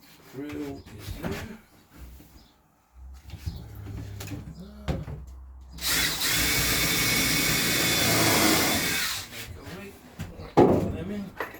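Amid conversation and handling noises while building a wardrobe aboard a narrowboat, a power drill buzzes for a few seconds in one steady burst, then stops and the talking resumes.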